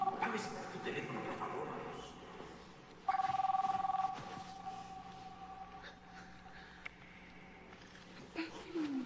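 A mobile phone rings in the middle of a wedding ceremony, a steady electronic tone that starts abruptly and lasts about a second amid a murmuring room, with voices around it.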